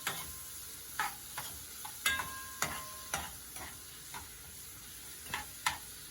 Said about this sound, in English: And start stirring.